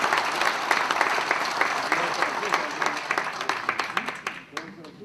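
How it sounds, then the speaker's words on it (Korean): A seated audience at a Korean political gathering in Seoul breaks into loud, dense applause that gradually thins into scattered individual claps. "다시 한번 격려의 큰 박수 부탁드리겠습니다"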